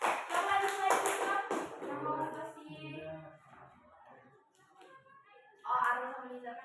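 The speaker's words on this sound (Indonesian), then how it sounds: "Beri aplaus untuk Silka" Students in a classroom clap and tap their hands in a brief burst of applause, which fades into scattered taps and voices before a second short round of clapping near the end.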